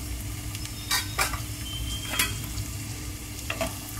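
Peanuts sizzle with mustard seeds in hot oil in a pan, a soft steady frying hiss broken by a few sharp crackles and pops, stirred now and then, with no voices.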